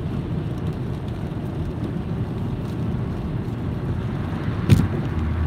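Rain drums steadily on a car driving through Las Vegas, a dense even wash of water noise and road rumble, close and continuous, with no talk.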